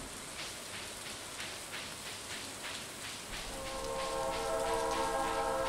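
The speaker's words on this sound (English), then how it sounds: "Ooh, a train is passing through Stardew Valley." A train passing through in the Stardew Valley video game, rhythmic clacking over a rain-like hiss, then a sustained horn-like tone rising in after about three seconds, fairly quiet and without talk.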